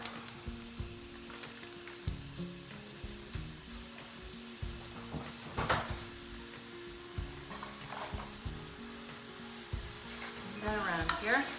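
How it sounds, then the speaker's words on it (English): Stew beef browns in a pan for beef and broccoli, a steady close sizzle with intermittent scraping and stirring clatter throughout, with no talk. "we're gonna add it to our pan here. And we're just gonna get it browned up."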